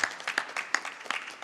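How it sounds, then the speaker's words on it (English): Brief scattered applause of a small crowd at a Sunday temple puja, with quick irregular claps, moderately loud and close. "Let's give them a big round of applause for the great work."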